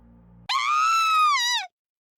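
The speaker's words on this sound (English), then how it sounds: "most horrifying scream I'd ever heard in my life" A long, shrill scream of anguish from the Kamaitachi no Yoru video game cuts in suddenly after a low hum, holding loud and wavering for over a second before stopping abruptly into silence.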